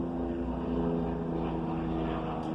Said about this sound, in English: oh my god, we got a helicopter.